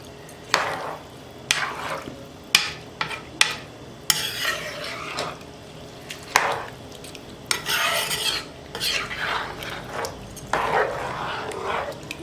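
A spoon stirs black beans, rice and water in a pot, with repeated scraping strokes and sloshing in uneven bursts, close by and fairly loud with brief pauses between.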